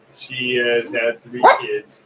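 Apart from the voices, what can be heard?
dog barking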